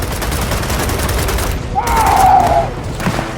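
Gunfire during a combat sequence in the video game Gears of War 4, a dense run of repeated shots under a steady bed of battle noise, with a brief brighter whine-like burst near the middle.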